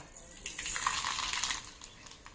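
A spoonful of mustard seeds spluttering in a spoonful of hot coconut oil in a pan, a brief, faint crackling sizzle with no talking.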